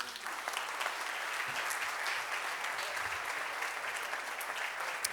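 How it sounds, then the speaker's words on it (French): A breakfast-event audience applauds economist Nicolas Bouzou with steady, dense clapping that holds at an even level throughout, with faint crowd murmur underneath. "Je vous demande d'applaudir Nicolas Bouzou."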